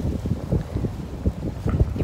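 Wind gusts across a hiking trail and buffets the microphone, giving uneven low rumbling bursts that rise and fall in quick pulses, with no talking.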